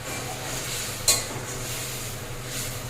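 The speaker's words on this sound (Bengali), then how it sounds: "এবার আমি একে একে মাছগুলো দিয়ে দিচ্ছি" Fish pieces for a sea-fish curry go one at a time into bubbling, boiling gravy, giving a steady simmering sizzle with one sharp splash-clatter near the middle, close and fairly quiet, with no talking.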